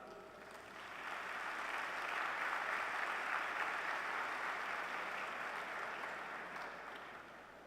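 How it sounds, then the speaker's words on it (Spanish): Steady applause from a large audience at a formal panel session opening a conference on secularism and transcendence, swelling and sustained for several seconds, loud and continuous with no talk over it. "Recibámosles con un fuerte aplauso."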